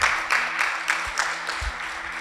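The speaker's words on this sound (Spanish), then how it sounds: "Un aplauso para el Señor" A church congregation applauds, a dense, steady clapping of many hands carrying on for a couple of seconds, with occasional low thumps underneath.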